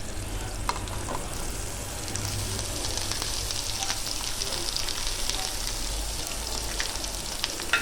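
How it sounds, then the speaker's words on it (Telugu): Cut bitter gourd pieces fry in a hot pan with tempering spices, giving a dense, steady sizzle with faint clicks of stirring throughout, close and without talk. "కట్ చేసుకున్నాం కదా కాకరకాయ ముక్కలు, అవేమో ఇందులోనే వేసుకుంటాను"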